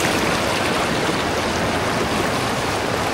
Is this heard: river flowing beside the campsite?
yes